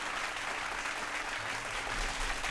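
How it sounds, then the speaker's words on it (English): A short, steady round of applause, dense and fairly faint, continuing evenly without talking. "Round of applause."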